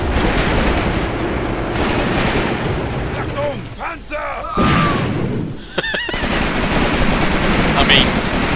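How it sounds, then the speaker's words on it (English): Machine gun fire in a World War II video game, loud, dense and rapid bursts that run almost without a break, with short pauses and a few sharper shots between volleys. "let's kill this machine gunner."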